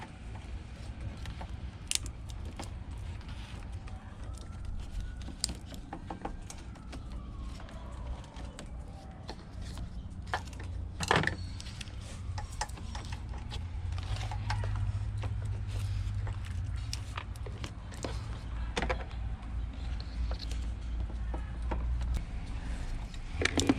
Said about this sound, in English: I'm trying to pry the harness from the body.